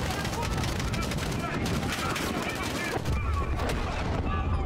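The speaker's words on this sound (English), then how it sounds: "Did you see like the shockwave from that explosion?" Mortar explosions and heavy gunfire in the video game Call of Duty Modern Warfare campaign, a dense continuous roar of blasts and rattling shots with a deep boom near the end, loud throughout.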